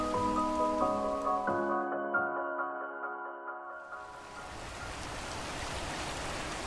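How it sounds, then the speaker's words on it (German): Rain as a sound effect in a German children's radio play: a steady, hissing downpour rises alone after a held musical chord fades out. "Das ist nicht gerade leicht bei dem Regen."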